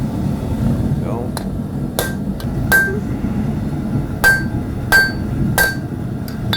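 Hammer forging a knife blade on the rounded part of an anvil, about a dozen loud ringing metallic strikes in an uneven rhythm, some blows sharper than others, over a low steady hum from the shop.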